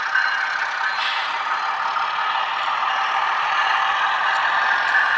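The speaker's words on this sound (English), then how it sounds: "You can hear I have all the engines running." Several HO scale model diesel locomotives, Alco type, run together on a home layout, giving a steady, continuous engine drone with a faint rattle at moderate level and no talking.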